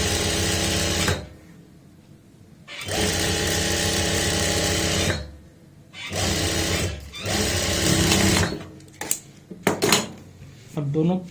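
Electric sewing machine stitching a seam on a churidar pajami, running in three long loud bursts with short pauses between, followed by scattered clicks and handling noises of the fabric and machine.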